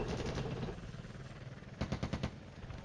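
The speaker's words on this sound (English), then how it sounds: "Mortar is hitting where they should be." Mortar and artillery fire in the Flashpoint Campaigns Cold War wargame, a rumbling barrage followed by a short cluster of sharp, rapid bursts of gunfire at moderate level, no voices.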